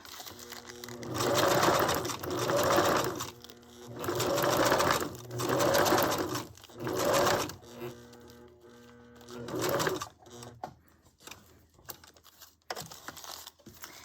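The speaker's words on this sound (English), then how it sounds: "so I'm going to do the sewing on that line" A sewing machine stitches along a line on a glassine bag in a craft project, running in several short steady bursts with pauses between, then a few light clicks and rustles as it stops.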